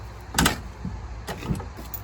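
The pinned back door on the cab of an Iron-Rhino mini excavator being handled, a sharp close knock followed by a couple of lighter rattles and thumps, with no one talking.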